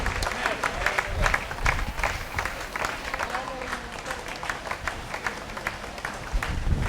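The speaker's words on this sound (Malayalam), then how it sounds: "ഒന്ന് കൈയടിച്ചു ആമീൻ പറഞ്ഞേ." A church congregation claps together during a healing service, a sustained ragged burst of applause with voices mixed in underneath.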